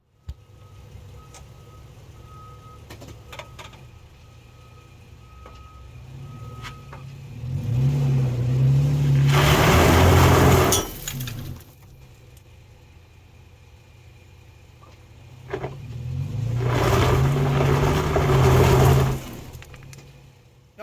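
A 2nd-generation Toyota Tacoma with its right rear wheel spinning on a jack stand, the engine revving hard in two long loud bursts over a steady idle, with the drivetrain whirring as the wheel turns.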